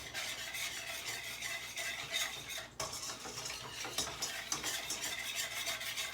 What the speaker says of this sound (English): Okay, I'm stirring away, okay?